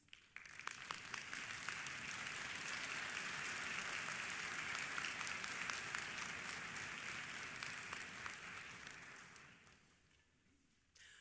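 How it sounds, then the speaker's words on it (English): A concert band audience applauds steadily for several seconds, the clapping swelling and then fading out toward the end. "so we can give you a round of applause"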